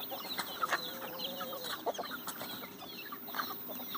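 Free-ranging country hens cluck softly in a grove, a scatter of short, close calls and chirps over a quiet outdoor hush, with no talking.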